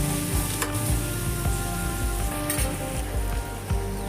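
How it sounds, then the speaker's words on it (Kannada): Onions frying with salt in a pan, a dense crackling sizzle with faint tapping, steady and close throughout. "ಅದಕ್ಕೆ ಈರುಳ್ಳಿ ಹಾಕಿ ಫ್ರೈ ಮಾಡ್ಕೊಳ್ಳೋಣ"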